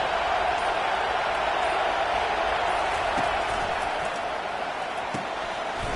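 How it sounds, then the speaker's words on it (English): Stadium crowd roar in the Madden football video game: a dense, steady wash of cheering and noise filling the whole stretch without letting up. "Listen to this crowd just shaking the girders of this place"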